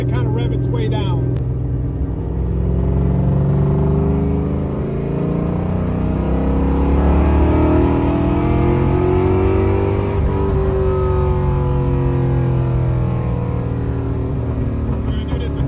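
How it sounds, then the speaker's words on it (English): A Ford 351W V8 fitted with a big camshaft, revved from around 6,000 RPM and left to wind down, making a loud continuous rumbling engine roar with falling pitch through the whole stretch. "we're going to let it kind of rev its way down"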